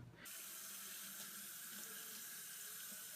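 Strawberries being washed under a running kitchen tap, a steady broadband rush of water that starts abruptly and continues evenly, close and fairly quiet, with no talk.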